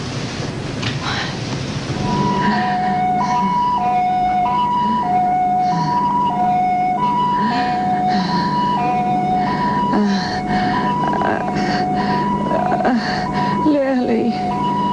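An ambulance siren wailing loudly in a repeating two-tone pattern, close and continuous over a rumbling, rain-like background, with voices talking over it.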